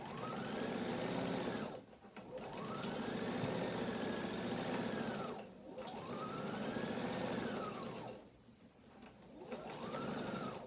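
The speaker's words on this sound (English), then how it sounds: "I'm back stitching at the corners" A sewing machine stitches a tote bag seam with back stitching at the corners, running in steady whirring bursts of a few seconds each with short pauses between them. The sound is close and loud, and there is no talk.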